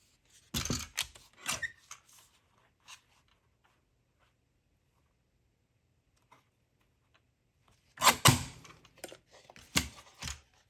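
Designer series paper being cut down for a handmade card with a paper trimmer, two bursts of sharp cutting and sliding clicks separated by a long quiet stretch, close and crisp.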